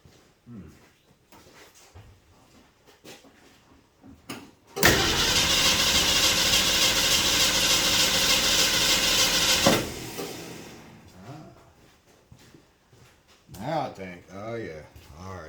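A 1966 Ford Mustang with a 289 V8, left sitting, cranks and then runs loudly and steadily for about five seconds before cutting off, with voices and handling noise before and after.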